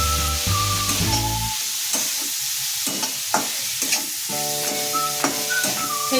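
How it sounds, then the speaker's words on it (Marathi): Onions sizzling on a low flame in a pan for egg bhurji and being stirred, a steady soft frying hiss with repeated scraping strokes of a spoon against the pan, close and alone. "आणि जोपर्यंत आपले कांदे फ्राय होत आहे, परतले जात आहे"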